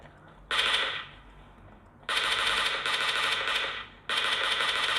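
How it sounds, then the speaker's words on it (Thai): Automatic gunfire rings out in PUBG Mobile on a Huawei Y6p phone in three loud sustained bursts separated by short pauses, with faint game ambience in between. "ทำไมผมยิงไม่โดนคน"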